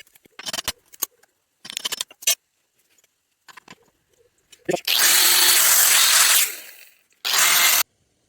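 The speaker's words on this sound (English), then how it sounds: "I do like using the cutting disc" Angle grinder with a thin 1 mm cutting disc cutting metal on a home wind turbine build, two loud sustained bursts of grinding following scattered knocks and handling noises, with a brief pause between the cuts.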